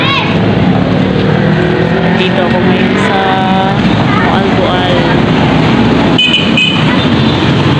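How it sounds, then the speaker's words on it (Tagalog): Busy street traffic in Moalboal, with many vehicles passing, makes a loud, continuous roar with occasional engine whines and horn-like tones, while a person talks over it close to the microphone. "So, dami sasakyan."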